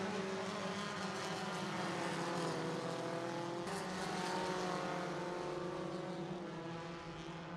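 Stock class race cars roar around Irwindale Speedway, a continuous loud engine drone with layered harmonic whine from several cars, steady and close, with no pauses.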